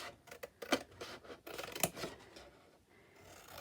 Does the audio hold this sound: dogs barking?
no